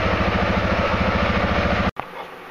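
A Can-Am 400 Outlander Max ATV engine idling with a steady, even pulsing putter for about two seconds before cutting off abruptly, leaving near quiet.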